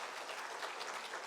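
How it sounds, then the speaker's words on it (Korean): A church congregation at a Korean Sunday worship service claps briefly to welcome a newly registered member, a faint and steady patter of many hands. "우리 큰 박수로 함께 축복하며 환영하겠습니다"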